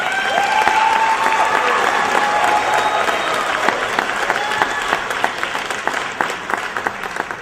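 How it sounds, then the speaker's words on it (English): Audience applause at a Juneteenth honorary father awards presentation fills the room, a steady crowd roar of many hands clapping at an even level for several seconds. "Let's give them a round of applause."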